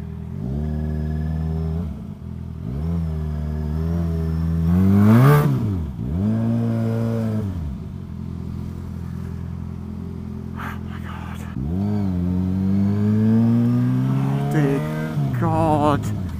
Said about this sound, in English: I was not planning on doing this entire video while filtering through the worst traffic on the hottest day.